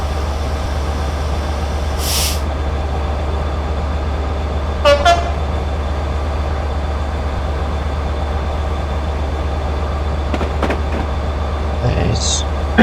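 In the Train Simulator Classic game a train slows on its approach to Coventry, with a constant low engine rumble, a couple of brief horn toots and faint clicks.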